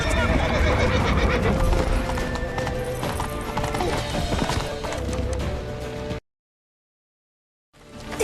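Horses gallop and whinny in a fantasy game cinematic set during a chase from a temple island, hooves clattering loudly under a dense mix of shouting voices and score before cutting to silence, then resuming.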